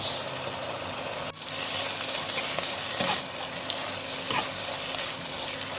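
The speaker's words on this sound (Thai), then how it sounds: "then stir fry until the mushrooms are cooked" Oyster mushrooms and cilantro stir-fry in a hot pan for a vegan stewed vegetable dish, giving a continuous close, loud sizzle with bursts of scraping and tossing.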